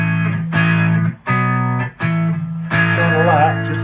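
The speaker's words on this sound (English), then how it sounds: "put a little bit of distortion in there." Electric guitar through a new amp on a British-voiced clean channel with a little distortion added, playing several sustained chords separated by short gaps, close and fairly loud with no other sounds.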